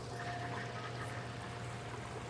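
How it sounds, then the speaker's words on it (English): A watering can pours water onto garden soil to water in fresh plantings, making a soft, continuous, close trickle with a steady low background hum and no talking. "Let's water these in."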